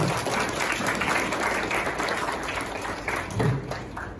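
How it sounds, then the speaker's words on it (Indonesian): A crowd at a send-off ceremony for ninth-grade madrasah students applauds, steady full clapping at moderate loudness that eases slightly toward the end, with a brief voice-like murmur partway through. "Boleh tepuk tangan untuk santri-santri kita."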